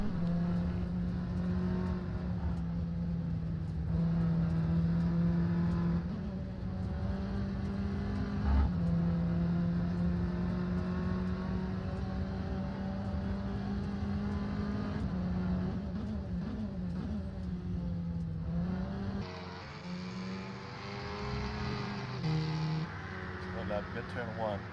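A race car laps the Kazan Ring in pre-season testing while warming its tires. The engine drone is steady and fairly close, shifts pitch through corners and rises into harsher revving near the end, with commentators talking over it.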